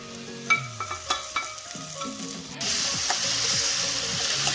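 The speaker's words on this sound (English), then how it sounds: "Now this has to be sauteed very well till it gets very soft and mushy" Tomatoes and onions sauté in a pan. Several spoon knocks and scrapes come first, then a loud, steady sizzle takes over as the pan heats up.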